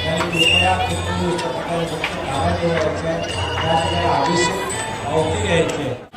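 Dense crowd at the Lalbaug Ganpati festival in Mumbai, a steady loud din of many voices and bustle with rhythmic drumming pulses underneath, continuous throughout.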